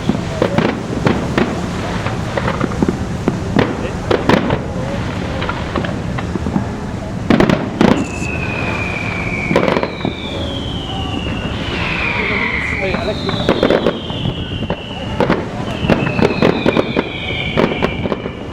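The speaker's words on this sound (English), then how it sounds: "we have one more display of the fireworks" Fireworks display for the P&O 175th anniversary, with repeated sharp bangs and crackling bursts at a distance, mixed with rising whistles and a ship's horn, while people talk nearby.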